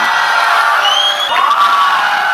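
Crowd at a smartphone launch event shouting and cheering continuously, a loud dense roar of voices with whoops rising over it throughout.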